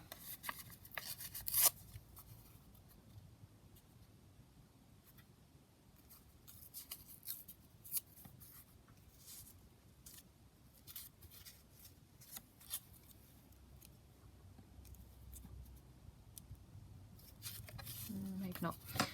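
Scissors cutting paper for a collage page in a craft session, a scatter of soft, close snips and paper rustles spread across the stretch, with a person talking over them.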